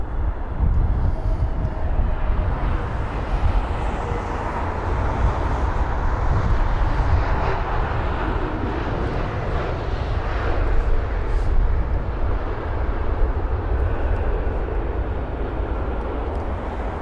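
An Iberia Airbus A320neo jet at London Heathrow gives off a continuous engine roar. The sound is moderately loud and steady, with a broad low rumble that holds its level throughout and no talking.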